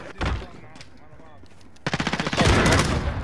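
Rapid automatic gunfire in Call of Duty: Modern Warfare, a short early burst, then a sharp rattling volley of close, loud shots near the end, with game voice chatter between.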